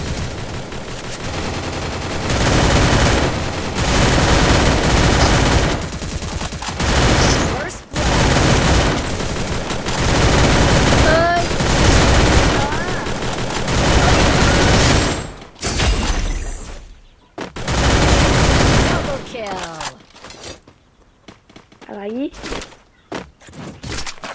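Gunfire from someone shooting, rapid bursts filling long stretches and then stopping abruptly, loud and close, with people talking over it.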